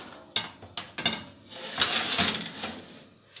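A baking tray of meringue shell pastries goes into an oven heated to just over 180 degrees, with a few close metallic clanks and scrapes followed by a rattling slide and a soft thud.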